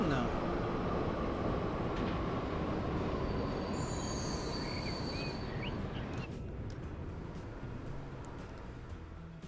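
A train in the game Transport Fever 2 rumbling along the rails, a dense continuous low roll that fades slightly toward the end, with a faint high squeal and light clicks above it.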